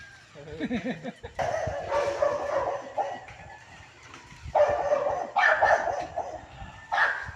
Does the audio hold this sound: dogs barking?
yes